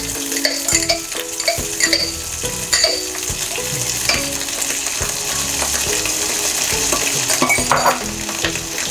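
XO sauce sizzles loudly in a hot pan for a pippies and vermicelli dish, a dense continuous crackle with metal utensil scrapes and stirring, close and without talk.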